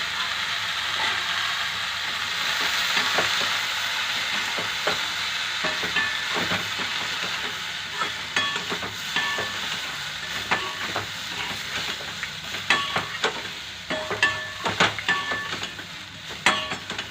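Cluster beans in a pan give a soft, steady sizzle with a hiss, and stirring scrapes and clinks come through more clearly in the second half.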